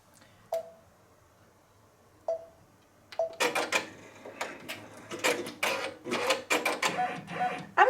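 A multi-needle embroidery machine sews a batting placement stitch for a quilt block, starting with a few isolated mechanical thumps, then settling into fast, loud, rhythmic stitching clatter up close.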